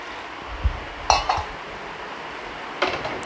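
Metal pots and a pressure cooker clatter and clink in a home kitchen during cooking of green gram kadayal, a few sharp knocks and chinks spaced apart, fairly quiet and close.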